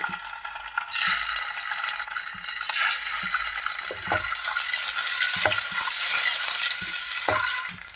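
Eggs fry in hot oil with a pinch of turmeric and salt in a kadai, giving a bright, continuous close-up sizzle that swells after a moment, with occasional soft knocks of a spoon.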